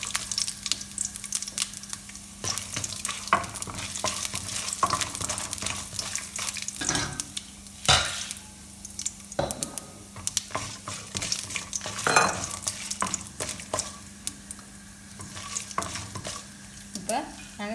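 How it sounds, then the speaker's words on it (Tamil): Peanuts, chana dal and urad dal fry in hot oil, giving a continuous close sizzle broken by frequent scraping and clinking as a spoon stirs them around the pan. "அரை தேக்கரண்டி கடலைப்பருப்பு, அரை தேக்கரண்டி உளுத்தம்பருப்பு, மூண்டையும் போட்டு முடிவா எண்ணெயில் பொரிப்போம்"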